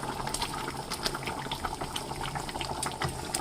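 A pot of dried fish pulusu simmering: a close, continuous bubbling and burbling with small popping bursts, steady and moderately loud, no voices.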